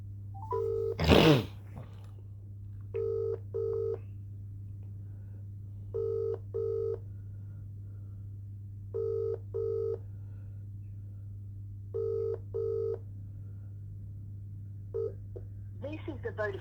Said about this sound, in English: Ringing up Christopher Browell.